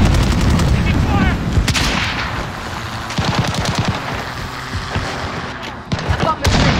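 Gunfire in Call of Duty Modern Warfare team deathmatch: bursts of automatic fire and single sharp shots crack out repeatedly, loud and near, with some more distant reports. Brief in-game voice callouts are heard between shots.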